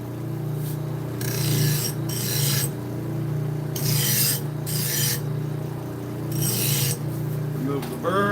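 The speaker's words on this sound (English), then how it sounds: "Remove the burr. Strap the edge." A knife edge is deburred and stropped on a powered strop, a steady machine hum beneath repeated hissing rasps as the blade is pressed on in short passes of about a second each, close and fairly loud.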